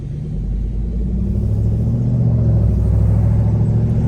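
A Chevrolet Camaro V8 rumbles steadily while cruising through the streets of Jurerê Internacional, with a deep, continuous engine drone that grows slightly louder as the car moves along.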